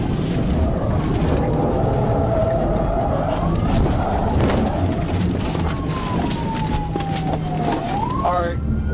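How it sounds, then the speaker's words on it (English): A suspect car loses control after an Arkansas State Police trooper's tactical vehicle intervention, heard over a wailing police siren and loud road and engine roar from the cruiser, with rising tire squeals near the end. "an Arkansas State Police trooper executed a tactical vehicle intervention (TVI) maneuver, causing the suspect vehicle to lose control"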